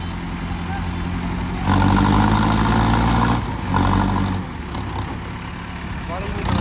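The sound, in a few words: tractor engine idling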